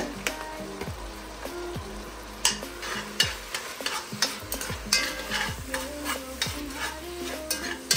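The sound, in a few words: seasoned ground meat browning in a pan for chili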